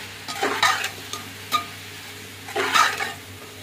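Vegetables with macaroni masala stirred in a pan, giving a few distinct scraping strokes and a light clink of utensil against metal over a soft background sizzle, close and without speech.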